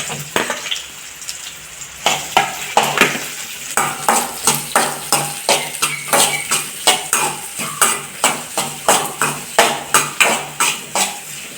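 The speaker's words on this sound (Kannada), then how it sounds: "ಇವಾಗ ಆನಿಯನ್ನ ಆ್ಯಡ್ ಮಾಡಿಬಿಟ್ಟು ನೀಟಾಗಿ ಡೀಪ್ ಫ್ರೈ ಮಾಡಬೇಕು." Onions deep frying in oil with cumin, pepper, cloves and cinnamon for a paneer curry, with a utensil tapping and scraping the pan in a fast, regular rhythm over a continuous sizzle, close and loud.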